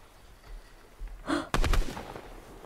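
A few sharp gunshot bursts in the video game Fortnite crack out after a quiet stretch, one short volley and then a rapid cluster close together, loud against faint background hiss.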